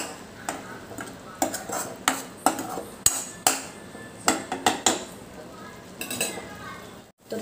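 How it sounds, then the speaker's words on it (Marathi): A spoon scrapes and clinks against a pan as green moong dal curry with vegetables is stirred, in a steady series of sharp metallic knocks over a low cooking background. "आता आपल्या भाजीला चांगलं तेल सुटेपर्यंत चांगलं मिक्स करून घ्यायचं आहे."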